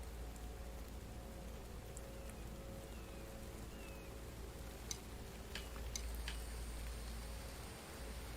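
Rain falling in the survival video game The Infected, a faint steady hiss with a low rumble and a few scattered light ticks, without any voices.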